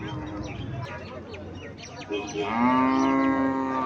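At a cattle market, a cow lets out a loud, drawn-out moo close by after a stretch of crowd chatter and scattered bird chirps, with people talking in the background.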